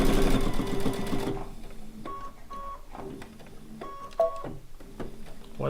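A sewing machine stitches a fabric bowl cozy, starting with a loud continuous whir for just over a second, then giving way to quieter intermittent stitching bursts and clicks as the fabric is guided.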